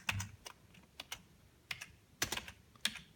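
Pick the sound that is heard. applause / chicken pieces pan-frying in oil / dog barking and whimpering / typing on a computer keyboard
typing on a computer keyboard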